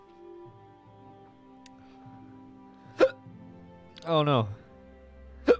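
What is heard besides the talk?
character hiccups in video game Kingdom Come: Deliverance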